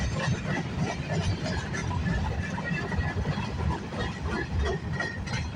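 The tail end of a CN freight train rolls past on the rails at Burlington West, a steady broadband rumble with faint clatter of wheels, continuous and fairly close, no voices.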